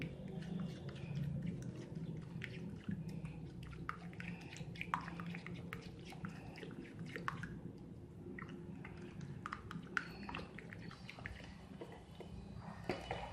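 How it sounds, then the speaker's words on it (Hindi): Thick yogurt is stirred and mixed in a bowl, giving soft, wet squishing and occasional light spoon clicks at an irregular pace, close but quiet, with no voices. "अब इसको अच्छी तरह से मिक्स करेंगे"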